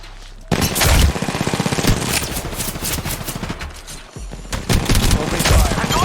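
Rapid bursts of RE45 pistol fire in Apex Legends Mobile, with quick strings of shots, a short lull, then more firing, loud and dense under game effects.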